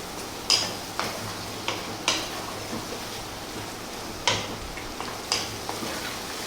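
Chicken curry frying in a pan while being stirred: a low sizzle under regular scraping and clinking strokes of the spoon against the pan, about one every second.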